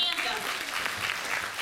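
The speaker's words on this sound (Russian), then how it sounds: "Это достойно аплодисментов." Audience applause for a young girl tennis player at a local awards event, a brief burst of mid-level clapping mixed with voices.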